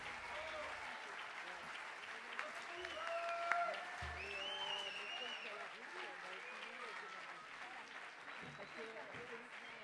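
An audience applauds after a sung French chanson, a long, steady wash of clapping with a few voices and cheers rising above it, strongest near the middle before thinning slightly.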